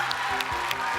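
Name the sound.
audience applause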